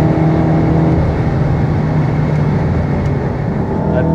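A Stage 3 VW Golf R engine holds full throttle on a track, giving a loud, sustained, steady drone with a dense low rumble that barely varies for several seconds and no talk over it.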